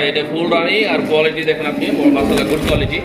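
Lahori pigeons coo at a pigeon market while someone talks over them, their soft rolling calls heard close by beneath continuous speech.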